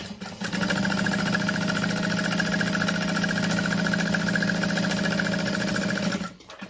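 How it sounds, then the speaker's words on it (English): A sewing machine top stitching the folded-over raw edge of a bag pocket, running at a steady, continuous mechanical hum close by for about six seconds before stopping. "I'm gonna top stitch that."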